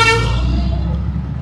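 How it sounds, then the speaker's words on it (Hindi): A vehicle horn blares in heavy town traffic during a cycle ride in Dibrugarh, the loud harmonic blast fading over a low rumble of engines and road noise. "बहुत ही ज़्यादा ट्रैफिक है जैसा कि आप लोग देख ही रहे हो"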